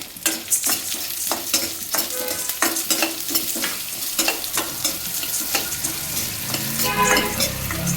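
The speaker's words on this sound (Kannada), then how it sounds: "ಬ್ರೌನ್ ಕಲರ್ ಬರೋ ಹಂಗೆ ಇದನ್ನು ನಾವು ಸ್ವಲ್ಪ ಫ್ರೈ ಮಾಡ್ಕೊಳ್ಳೋಣ." Coriander seeds fried in a dry pan with mace, cinnamon, cloves and pepper for vangibath masala, a light crackle under repeated brisk scraping stirs, near and moderately loud.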